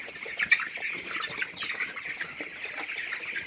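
A flock of chickens clucks and squawks continuously and fairly close by, with no one speaking.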